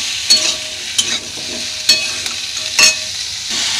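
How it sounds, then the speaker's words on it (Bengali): Vegetables and tomato frying for sambar in a pan over a high gas flame, a steady close sizzle broken by four or five sharp scraping stirs, with no voices. "গ্যাসের ফ্লেমটা আমি হাই করে রেখেছি, খুব ভালো করে সবজিগুলো আমি ভেজে নেব।"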